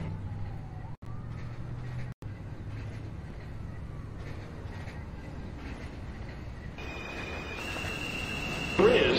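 NYC subway train on the automated line at 231 St approaching the station: a low, steady rumble of the train with rising wheel and mechanical noise that grows louder toward the end.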